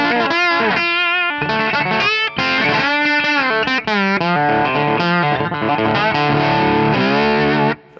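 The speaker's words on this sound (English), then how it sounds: "we're gonna add a little bit of reverb" An electric guitar plays through an amp with a little reverb added, distorted chords and melodic lines ringing close and steady for several seconds before cutting off at the end.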